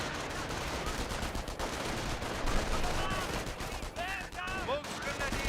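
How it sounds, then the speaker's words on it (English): Rifle and squad gunfire in Company of Heroes, rapid overlapping shots crackling in bursts over continuous battle noise, with short pinging tones near the end. "Sniper firing away."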